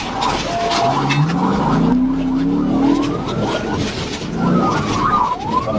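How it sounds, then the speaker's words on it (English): A suspect's car skids out of control after a police PIT maneuver during a high-speed chase, loud tires squealing in long rising and falling sweeps over a steady engine roar, with siren-like tones in the mix. "When authorities decided to perform a pit maneuver, the suspect's vehicle lost control and overturned"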